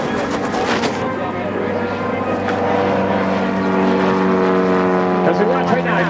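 A Super Decathlon aerobatic airplane drones through a snap roll at a practice airshow in Waukesha, WI, its engine a loud continuous hum that shifts pitch as the manoeuvre goes on.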